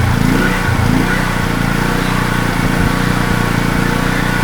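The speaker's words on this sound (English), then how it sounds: "Just holding the throttle at the moment, but it doesn't seem to want to run without choke." A Wacker portable generator engine runs steadily on choke with the throttle held, a loud, close, continuous rough drone with constant low pulsing and no voices.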